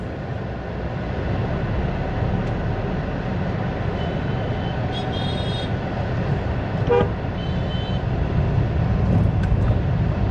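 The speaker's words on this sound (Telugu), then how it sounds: "స్లోగా వెళ్తుంటే వెనక నుంచి హార్న్లు కొడుతున్నారు" Vehicle horns honking from behind in busy market traffic on the road past the Sarpavaram flower market in Kakinada: several short toots of varying pitch over a constant rumble of engines and traffic.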